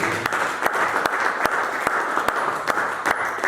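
A church congregation applauds in a steady, dense wash of clapping with sharper individual claps standing out at regular intervals, with no talking over it.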